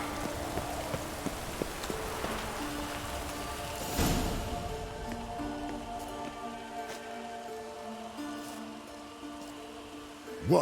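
Steady rain pattering in The Witcher 3, continuous and moderate throughout, with occasional clip-clop of hooves and a faint swell partway through.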